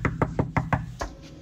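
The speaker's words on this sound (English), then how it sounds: "Who's even knocking on my door?" Knocking on a door: about six sharp, evenly spaced raps in quick succession, close and clear with no talk.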